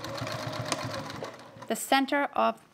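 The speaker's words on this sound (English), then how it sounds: "I'm going to try and sew this separation seam between" A sewing machine runs steadily stitching a separation seam on a toiletry bag pocket, a rapid rhythmic whir up close, then stops as someone speaks briefly.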